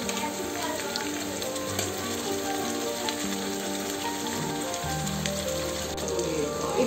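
Ginger garlic paste sizzling and frying steadily in a hot pan for goat head curry, a continuous hiss with soft crackles and occasional stirring clinks, with a voice speaking over it.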